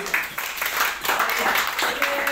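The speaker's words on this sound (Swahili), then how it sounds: "Mungu Bwana Yesu makofi." A church congregation applauds during a Swahili-language sermon, a dense, steady clapping that holds at an even level through the short stretch with no pauses.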